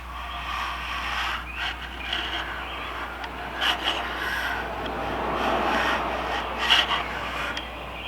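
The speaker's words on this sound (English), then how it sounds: "Now I can take it down to halfway and I'll scribe the line for you." A knife steel blank is scribed and worked by hand during stock-removal knife making, a close, continuous rasping scrape with a few sharper strokes and a low steady hum underneath, no voices.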